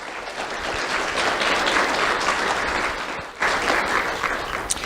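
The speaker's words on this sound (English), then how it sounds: "Let's have a round of applause for the school board and Dr." Sustained, even applause from an audience at a school awards ceremony honoring the school board, dense clapping from many hands, loud and continuous with a brief dip before it swells again.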